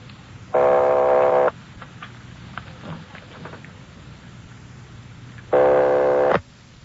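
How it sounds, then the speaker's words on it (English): Telephone ringback tone on a call placed to Los Angeles, two long harmonic ring bursts about five seconds apart over a steady line hum, with faint clicks and line noise between rings. "They're ringing the number, Sergeant."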